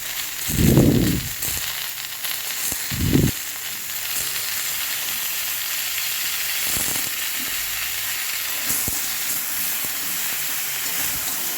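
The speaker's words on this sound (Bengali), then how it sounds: "এগুলোকেও আমি ভেজে নেব লবণ দিয়ে ভেজে নেবো" Brinjal and drumstick pieces fry with salt in hot oil, giving a steady, close sizzle after two heavy clattering thumps at the start, with no one speaking.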